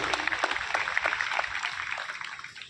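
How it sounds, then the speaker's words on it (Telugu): Audience at a union gathering clapping to welcome dignitaries on stage, a modest crowd's patter of claps at moderate distance, thinning out toward the end. "వారి స్వాగతం మీరు గట్టిగా చప్పట్లతో కొట్టాలని చెప్పి మనం చేస్తా ఉన్నాం"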